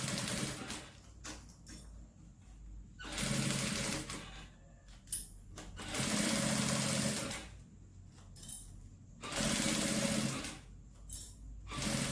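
A sewing machine stitches a seam on a fabric umbrella holder, backstitching at the start and end: three sustained close whirring runs of a few seconds each, separated by quieter pauses with small mechanical clicks and handling noise, no talking.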